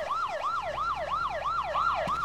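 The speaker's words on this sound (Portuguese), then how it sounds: "Ó, sirene. Aqui na nossa direita, sirene." A wailing siren in the video game Arma 3, its tone sweeping up and down in a steady, rapid cycle, loud and continuous with no talk over it.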